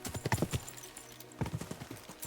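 Horse hooves clip-clopping in Kingdom Come: Deliverance II, two short bursts of quick hoofbeats separated by a brief pause, close and clear.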